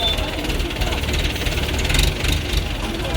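A tractor engine idles during a Ganesh festival procession, carrying a Ganesh idol. Its steady, knocking low rumble sits close and loud for the whole stretch.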